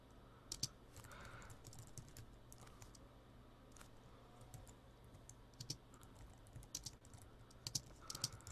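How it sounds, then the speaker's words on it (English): Typing on a computer keyboard fills the whole stretch, uneven bursts of soft key clicks at close range in a quiet room, with no talking. "I'm just typing here"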